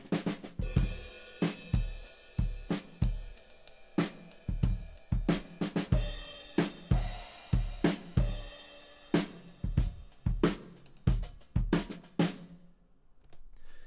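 Drum loop run through a Waves J37 tape saturation plugin at its default settings: a steady, tight pattern of kicks and snappy snares with bright cymbal wash, even and moderately loud throughout.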